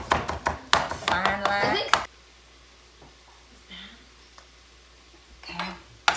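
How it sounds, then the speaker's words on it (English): A knife finely chopping a bunch of Italian parsley for a Bolognese sauce, with rapid, close, crisp strikes for about two seconds, then quiet with a few faint taps. A voice talks during the chopping. "I'm taking a bunch of Italian parsley and chop it all up really fine"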